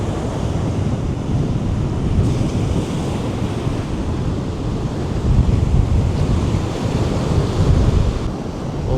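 Strong wind roars across the microphone at Orre Beach, mixed with the steady wash of surf, a dense, continuous, loud rumble with slight gusting swells and no voices.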